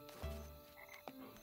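Frogs croaking in a swamp at night within a video game, a few short, faint croaks in quick succession against a quiet background.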